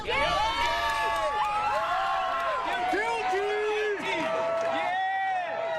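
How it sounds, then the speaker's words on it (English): A crowd gathered outside a courthouse cheers and whoops as a guilty verdict spreads, with overlapping shouts and excited voices rising and falling throughout, fairly close and lively. "cheers could be heard in the crowd as news of Trump's conviction spread"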